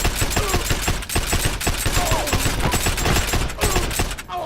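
Submachine gun fire in the online shooter Heroes & Generals, loud rapid automatic bursts with dense overlapping shots and battle noise running almost continuously, close and without talk.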